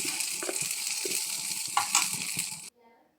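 Okra sizzles and crackles in a hot pan while a utensil stirs and scrapes with irregular clinks, then the sound cuts off abruptly.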